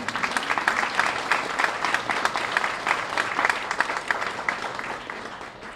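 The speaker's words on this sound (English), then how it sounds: "Let's give her a hand." An audience at a city budget open house applauds the city manager, a loud, dense burst of clapping from a large crowd that holds steady for several seconds before easing off.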